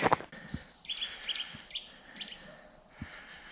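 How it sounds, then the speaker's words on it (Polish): Tits calling in a winter forest along a hiking trail, a few thin high chirps and short call phrases at moderate distance, with footsteps and faint rustling beneath. "Sikorki, wiewióreczki."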